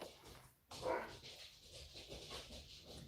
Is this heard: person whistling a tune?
no